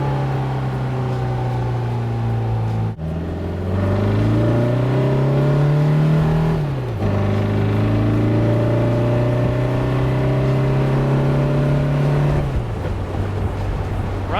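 A 1956 Porsche 550 Spyder engine runs at a steady close idle, then blips and revs up twice, the pitch climbing and holding before settling back, loud and alone.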